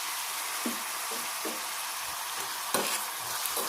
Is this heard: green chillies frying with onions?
yes